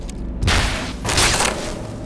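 Star-Lord's gun firing in the Guardians of the Galaxy Telltale video game: two sharp, loud blasts about three-quarters of a second apart, with a bright crackling energy-weapon burst under game ambience.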